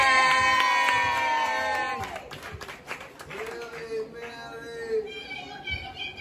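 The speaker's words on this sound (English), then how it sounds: "Y'all give it up for Reaally Millie." A crowd cheers and claps for a young performer at a filmed event, loud and energetic at first with shouts and harmonic voices, then settling into scattered crowd noise and talk.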